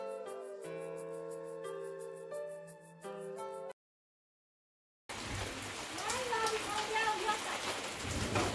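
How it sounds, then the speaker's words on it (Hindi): Heavy rain in a mountain village, heard as a dense, steady hiss that follows a short musical passage and a silent gap, with a voice speaking over the downpour. "अभी ना बहुत ज्यादा बारिश हो रही है"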